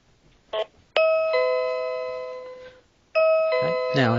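A wireless 2.4GHz video intercom doorbell rings close by with a loud two-tone electronic chime, heard twice after a button click, with brief speech at the end.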